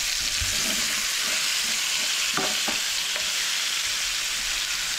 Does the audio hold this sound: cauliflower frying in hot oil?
yes